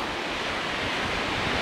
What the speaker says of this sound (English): it's gotten incredibly windy, incredible gusts, and it's gotten really cold